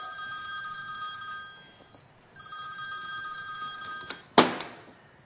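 A telephone rings in two long, bright electronic bursts separated by a short pause, followed by a loud clunk as the receiver is picked up.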